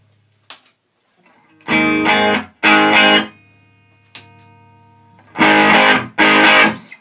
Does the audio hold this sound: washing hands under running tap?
no